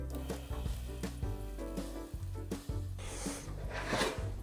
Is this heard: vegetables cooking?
yes